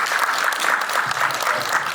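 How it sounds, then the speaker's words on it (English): An audience at a contractor talk gives a round of applause, continuous dense clapping of many hands, loud and close throughout the short stretch. "give these guys a round of applause"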